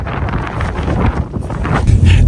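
Strong snowy wind in Xinjiang buffets and roars against the microphone in low, uneven gusts, growing heavier toward the end.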